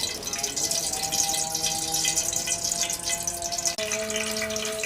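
Cooking oil pouring into a pan to start a pakora kadhi, a steady close gushing stream that runs continuously with a brief break near the end.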